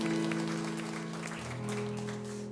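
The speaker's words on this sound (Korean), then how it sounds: "우리 서로 박수로 서로 축복합니다." A church congregation claps during a Sunday morning worship service, a steady wash of applause lasting throughout over sustained music.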